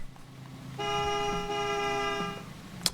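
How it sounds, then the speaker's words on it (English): A truck horn in the RoadCraft video game blares in one steady, slightly echoey honk lasting about a second and a half, loud and alone over a low engine rumble. "The horn sounds a little echoey."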